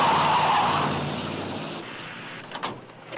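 A 1955 patrol car spun around at a roadblock, tires squealing loudly in a long skid that fades out, followed by a couple of brief thumps near the end.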